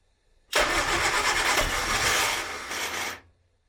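A rare 1970s Austin Allegro's engine cranks and catches, running loud and close for about two and a half seconds before cutting out abruptly.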